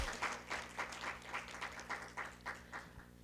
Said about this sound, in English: You have to clap for that.